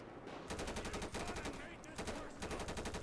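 Rapid automatic gunfire erupts in a Grand Theft Auto V shootout against a biker gang, quick regular shots crackling in steady bursts, faint and close with little pause.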